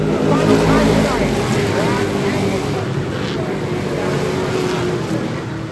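Street stock race cars roar around an oval track in a dense, continuous engine drone with rising and falling pitch, loud and close, and an announcer's voice over the top.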